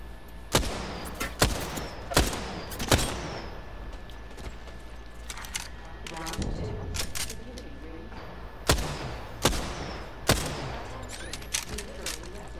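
Gunfire in an Apex Legends battle-royale match, with sharp bursts of automatic shots in short volleys spaced a second or two apart, loud and close, set against low game ambience and occasional distant chatter.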